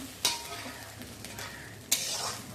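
Egg bhujia frying in a pan with a steady soft sizzle, broken by two sharp scraping clatters as a spatula stirs and scrapes the metal.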